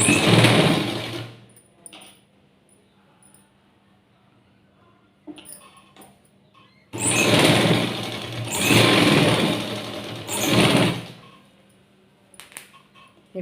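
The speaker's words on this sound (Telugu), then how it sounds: "ఈ కాజా పట్టీని ఇలా ఫోల్డ్ చేసుకొని అంచు మీదే కుట్టు వేసుకోవాలి" A sewing machine stitches along the edge of a folded fabric strip in two loud bursts separated by quiet pauses and a few faint clicks. Nobody talks.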